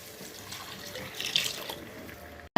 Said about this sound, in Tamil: இந்த ஸ்டேஜில் தண்ணி விட்டு வேக விட போகிறோம்